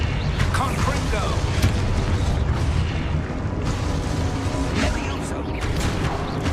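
Confringo blasting spells in the Hogwarts Legacy video game fire off as loud, dense explosive booms that roll one into the next, forming a continuous roaring wall of sound.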